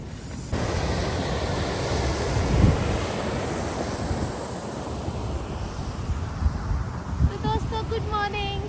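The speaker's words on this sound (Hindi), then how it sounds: "तो खाली झरने का आवाज़, चिड़ियों का आवाज़, और हम लोग हैं यहाँ इस जगह पे" A Himalayan mountain waterfall pours with a constant, wide rushing roar on a cold morning. Faint bird chirps appear near the end, and a couple of soft bumps break the steady noise.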